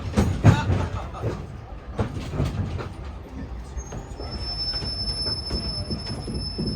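The Disneyland Railroad passenger train rumbles along the tracks with clacking wheels and a high metallic squeal, continuous and fairly close.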